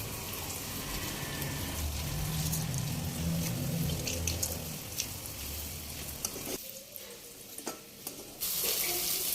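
Water dribbles and splashes steadily as soaked soya chunks are squeezed out by hand, with some soft wet handling noises, fairly close.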